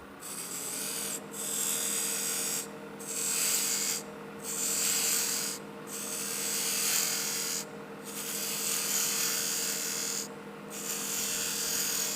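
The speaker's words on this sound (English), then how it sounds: "I have a special little tool that I do that with. So I'll raise it up. It's kind of like a little scraper, but I can make my coves with it." A small scraper cuts coves on a wooden duck call spinning on a lathe: a steady hum with repeated rasping scrapes in passes of a second or two, separated by short pauses.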